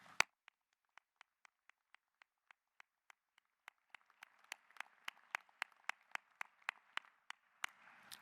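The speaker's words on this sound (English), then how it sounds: "Please join me in thanking those individuals in attendance today with a round of applause." At a university winter commencement, faint, evenly spaced single claps come from the audience, gradually quickening and growing louder and more crowded into light, rhythmic applause.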